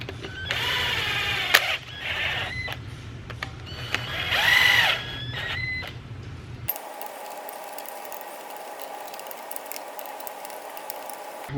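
Pneumatic or electric driver spinning cylinder head studs into a 2JZ engine block, in a few short whirring bursts with a pause between, then stopping and leaving faint workshop background.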